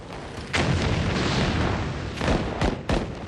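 Artillery shells firing and bursting on the Verdun battlefield of the First World War, a heavy rumbling barrage with one sustained roar followed by two sharper booms near the end, loud and with no voices.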